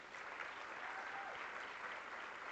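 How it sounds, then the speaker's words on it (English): A convening audience applauds fellows who have completed their program, producing a dense, steady, even wash of many hands clapping that holds at full strength from start to finish, with no voices rising above it. "please, you may give them a round of applause"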